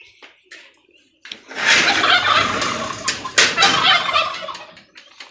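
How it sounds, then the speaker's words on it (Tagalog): Loud, rapid gobbling from male turkeys close by, several bursts overlapping after a quieter start with a few faint calls. "Yan po yung ating dalawang lalaking paabo."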